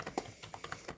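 Rapid typing on a computer keyboard, a quick irregular run of close, crisp key taps with nothing else audible.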